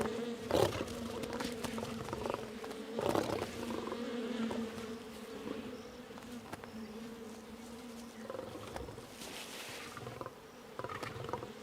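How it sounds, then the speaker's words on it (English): Bees buzzing in a swarm in Nakuru National Park, a steady droning hum with louder passes swelling and fading close by, over quiet outdoor background. "The cub disturbs a swarm of bees."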